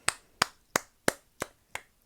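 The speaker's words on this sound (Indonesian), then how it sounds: "Tepuk tangan dulu, tepuk tangan dulu." Seven sharp hand claps land close by at a steady, evenly spaced beat, each one crisp and quickly fading, with no voices around them.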